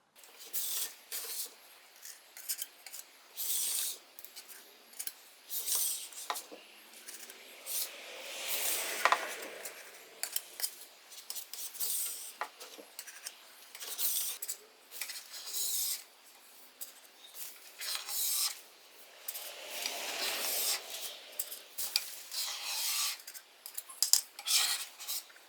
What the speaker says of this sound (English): Once I've scraped all of the old varnish off